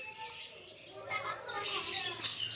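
A pair of lutino Fischer's lovebirds at an outdoor bird market give rapid, high, shrill chirps and twitters, moderately near, over faint background chatter.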